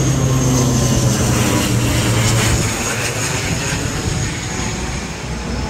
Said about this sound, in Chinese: 刚好飞机飞过去了